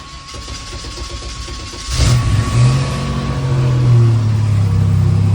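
A supercharged LT4 engine in a ZL1 Camaro cranks and catches, then settles into a loud, deep idle with a revving rise, heard up close with no talking.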